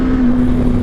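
A Voge 525 DSX adventure motorcycle engine revs high up the range, giving a loud, steady, meaty drone with wind rush in a brief burst.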